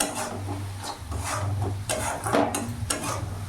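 Spice powders of chilli, cumin and coriander being stirred into a frying mixture for an eggplant bhuna, close and continuous scraping and rubbing of a spoon against a pan with a light sizzle underneath, no talking.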